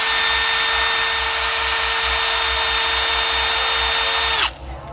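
A compact AEG 2804 Gen 3 cordless drill with a 5Ah battery runs at a steady high whine for several seconds, loud and close, then stops abruptly and spins down.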